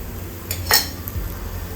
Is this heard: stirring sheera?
yes